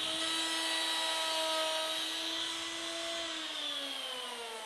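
A router bit spins and cuts a zero-clearance opening in the sacrificial face of an INCRA Wonder Fence, giving a steady high whine that holds level and then drops slightly in pitch toward the end, with no voices.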